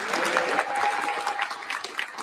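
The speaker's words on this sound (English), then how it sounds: "if you can please join me in a round of applause for our Deputy Mayors for Housing and Planning, Leila Bozard," Applause from the crowd at a New York City mayoral housing press event, fairly soft and thinning toward the end.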